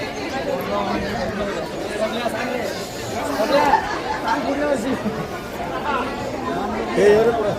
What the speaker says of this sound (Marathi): मित्रांनो थोडीशी गर्दी आहे पण चला दर्शन करूया.